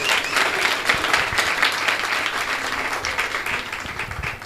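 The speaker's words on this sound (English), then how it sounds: "Let's give him a round of applause just to warm the room up" An audience at a business strategy workshop in Bochabelo, Free State, gives a round of applause, with dense, continuous clapping throughout.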